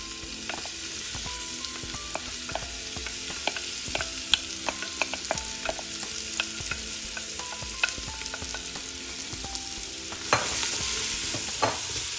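Cajun trinity vegetables frying over medium heat in a pot for red beans and rice, giving a continuous close sizzle with frequent spoon taps and stirring scrapes, growing a little louder near the end.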